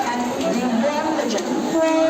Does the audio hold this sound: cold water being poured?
no